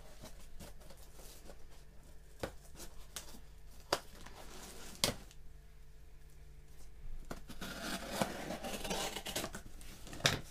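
Scissors snip in a scattered series of short, crisp cuts, some louder and some faint, with light handling and rustling noises between them in a quiet indoor space.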